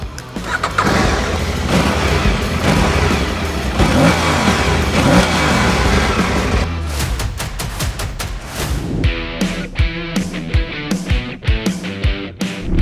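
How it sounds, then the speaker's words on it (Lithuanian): A motorcycle engine roars loudly and steadily, then breaks into sharp repeated revs and throttle blips, close by with no talking. "paklausykite, kaip šis motociklas skamba"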